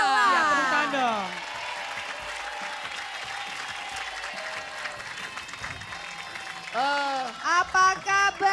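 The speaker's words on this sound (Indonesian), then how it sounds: "Ya, tepuk tangan dong." Studio audience applause on an Indonesian morning TV variety show, steady and full through most of the clip, with music and voices rising over it toward the end.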